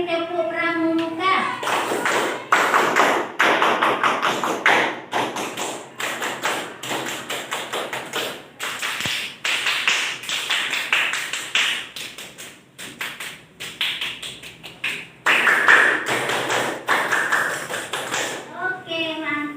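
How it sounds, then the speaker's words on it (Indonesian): A classroom of students performs the Indonesian Scout clap pattern (tepuk pramuka) five times in a row, following the teacher's hands. It comes as bursts of rhythmic, fairly loud clapping and tapping, with short gaps and some children's voices between them. "Oke, 5 kali tepuk pramuka."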